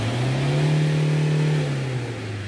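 A Toyota Hilux Vigo diesel engine revs hard to high RPM during a black-smoke emissions test, its loud droning pitch rising, holding and then easing back down. Close up, with no voices.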